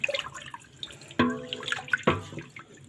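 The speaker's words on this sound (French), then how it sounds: "On a rajouté l'eau chaude, on mélange." Hot water poured into a pot of lentil soup base and stirred, with splashing and a couple of sharp clinks of a utensil against the pot, close and moderately loud.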